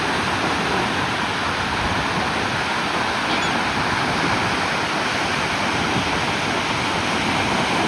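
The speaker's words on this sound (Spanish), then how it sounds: "Miren cómo las olas, a pesar de no ser tan grandes, levantan al bote." Ocean waves at a warm-water beach in Las Peñas, Ecuador, surge and wash steadily as they lift a boat, a loud continuous roar of breaking water and surf with no pause or voices.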